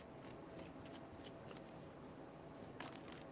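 A deck of tarot cards is shuffled by hand in quick, crisp riffling bursts separated by short pauses, close and fairly quiet, with no talking.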